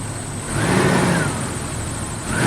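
A Toyota Supra's 3-liter, 190-horsepower engine runs close by with a steady broadband rumble and a slight swell partway through.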